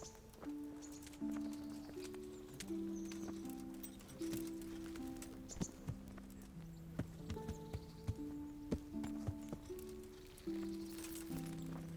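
Horse hooves clip-clopping in the medieval video game Kingdom Come: Deliverance, soft irregular steps heard under sustained tonal music, with a few sharper hoof strikes standing out near the end.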